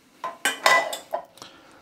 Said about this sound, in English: You then put them into this to dry